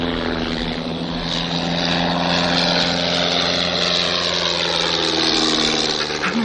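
A propeller aeroplane with no pilot aboard drones steadily and loudly throughout, its engine hum continuous with a slight rise in pitch near the end.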